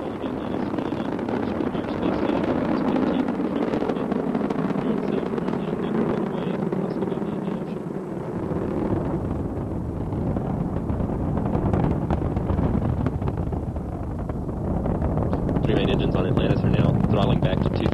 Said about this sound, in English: liftoff of Space Shuttle Atlantis with the Russian docking module